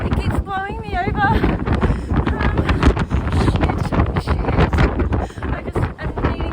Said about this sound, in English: It's so windy. I'm really scared. It keeps blowing me over.